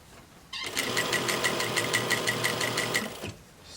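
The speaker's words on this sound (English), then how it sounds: "Alright, so I'm going to start my stitch, my back stitch." A sewing machine runs a back stitch across a reusable fabric face mask. It hums steadily and close for about two and a half seconds, then stops, with no speech.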